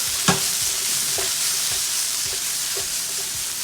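A vegetable lasagna mixture with crushed red pepper is stirred in a hot pan, a steady sizzle running under several spoon scrapes that come at a loose, uneven rhythm, close and fairly loud, with no voices.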